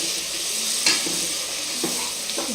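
Mint and coriander leaves being stirred into onions frying in oil for egg biryani, a steady close sizzle with a few soft scrapes of the spoon against the pan.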